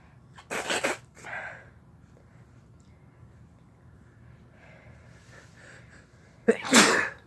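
Two forceful sneezes at the start and one more near the end, brought on by chhinkni snuff, with a soft breathy sound and quiet shuffling in between, close and clear.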